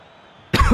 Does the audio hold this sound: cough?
yes